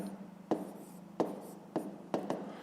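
Chalk or marker tapping and scratching out math working on a board: four or five short, quiet strokes at an uneven pace against a faint room hum, with no talk.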